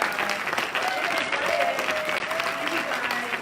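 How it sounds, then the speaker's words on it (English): An audience breaks into sustained applause, dense clapping with some cheering, loud and steady for the whole stretch. "can we have a big round of applause?"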